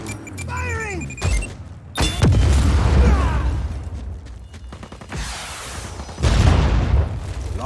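Gunfire and explosions in Just Cause 4: several heavy booms and thuds at irregular intervals, with bursts of shots and a rumbling bed of noise between them. Brief game voices surface among the blasts.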